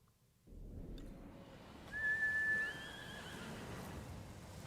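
A horse in a video game gives a loud, clear whinny lasting under a second, set against steady game background noise with an ambient rumble underneath.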